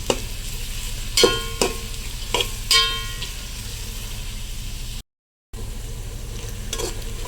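Cinnamon and cardamom sautéing in a pan for Ambur chicken biryani: a steady close sizzle with several sharp scraping clatters of a spoon stirring against the pan, and no talking.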